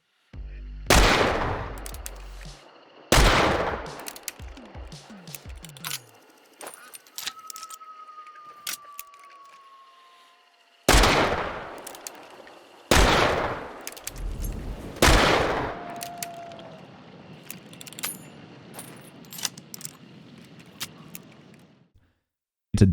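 Scottfield revolver shots in the video game Hunt Showdown, several loud, sharp reports spaced a few seconds apart, each with a ringing tail, plus metallic clicks and jangling as six empty cartridges are sprung out together.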